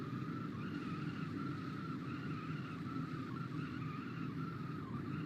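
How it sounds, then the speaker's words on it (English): A race car doing burnouts in a racing video game at Charlotte, with steady, loud engine drone and continuous tire squeal throughout, without pause. "And it's still trying to do burnouts."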